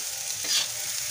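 A spoon scrapes and stirs coarse-ground soybean through softened fried onion in a pan over a constant hiss of frying, one brief swell of scraping midway, close up, with nobody speaking.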